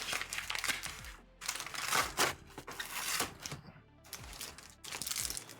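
Plastic blister pack of trading cards being torn and pried open by hand, a run of close crinkling, crackling bursts with short pauses between, no speech over it.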